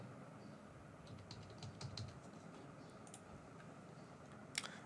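Keys tapped on a computer keyboard while entering a phone number, a quiet run of light clicks at a steady pace over a noisy background, with one sharper click near the end.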